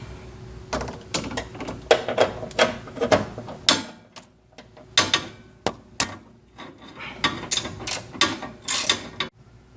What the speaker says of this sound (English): You grab your 10mm socket.